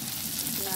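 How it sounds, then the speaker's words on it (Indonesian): Food frying in a small amount of oil for a chicken soto dish, a steady, close sizzle running through the whole moment without any talk over it. "kita goreng."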